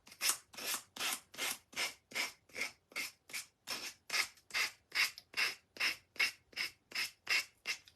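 Close, evenly spaced rasping strokes as the edges of a small carved wooden gnome are sanded or filed, about two per second, soft and steady with no talking.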